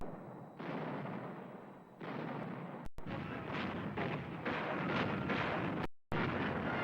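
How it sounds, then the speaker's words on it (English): Artillery fire in archival World War II footage, French guns blasting in dense, continuous booming rumbles with brief breaks, loud and close, no voices. "French artillery."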